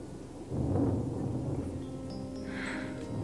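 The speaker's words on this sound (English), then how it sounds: "It's thunder." Thunder rolls during a storm, a low rumble swelling after a quiet start and fading slowly over a few seconds, alone without talk.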